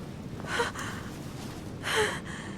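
A woman breathes in a video game, two audible breathy inhalations like gasps, spaced more than a second apart, close and soft over a quiet background.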